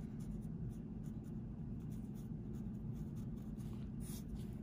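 A pen writing a label on a glass microscope slide in a laboratory, faint scratchy strokes continuing steadily at close range in a quiet room.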